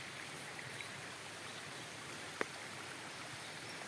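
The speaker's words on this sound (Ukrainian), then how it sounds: "тут дорога тече вода" Steady broadband rush of water flowing along a dirt road, a continuous gentle trickle and wash with no voices, interrupted once by a brief faint click.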